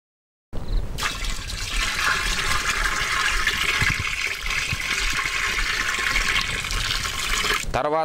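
Garlic extract being poured and mixed into 100 litres of water, a steady, loud rush of liquid that starts abruptly, runs without pause for about seven seconds and then stops.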